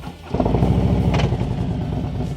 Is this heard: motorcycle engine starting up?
yes